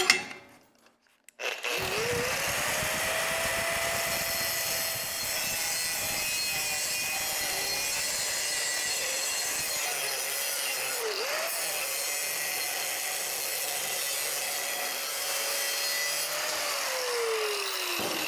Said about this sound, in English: next we will do the grinder with cutoff wheel